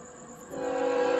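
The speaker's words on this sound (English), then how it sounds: "I hear the horn already." CSX freight train Q178 sounds its horn as it approaches, the blast swelling from moderate to loud partway through and holding steady, with no voices over it.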